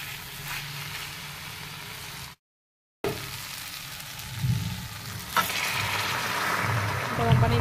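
Fried potato pieces and fish curry frying in a pan for a sour fish curry, producing a continuous close sizzle with stirring scrapes, a brief silent gap midway, then building bubbling hiss.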